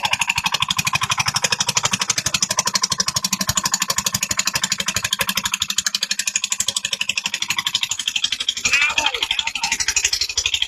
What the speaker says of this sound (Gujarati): ટ્રેક્ટર ભરવાનું કાર્ય ચાલુ છે.